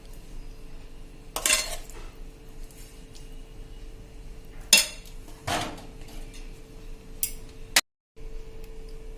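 Dishes and cutlery clink while cooked moong dal is served: a few sharp, separate metallic clatters and scrapes over a quiet steady hum, then a brief silence near the end.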